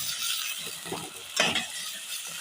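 Chicken frying in oil with ginger, garlic and whole garam masala makes a continuous close sizzle, broken by stirring scrapes and a louder clatter midway.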